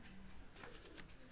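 Faint cooing of pigeons kept by a flying-pigeon fancier, soft low calls with a light patter nearby and no talking.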